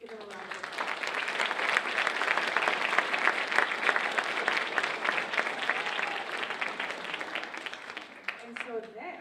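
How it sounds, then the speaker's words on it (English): An audience at a school fifth-grade band and chorus concert gives a long round of applause, many hands clapping in a dense, even wash that swells and then tapers off, with a voice returning at the end. "So I'd like to acknowledge both of them and give them a round of applause."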